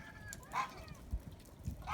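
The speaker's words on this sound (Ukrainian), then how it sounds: "гусі вже купаються" Geese honk twice, a loud nasal call near the start and another near the end, over a steady wash of background noise.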